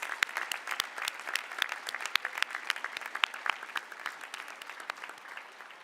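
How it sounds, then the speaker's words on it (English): Audience at a university commencement ceremony clapping for staff and volunteers, distinct individual claps in a fairly quiet, somewhat sparse round heard from a distance. "Let's give them a round of applause"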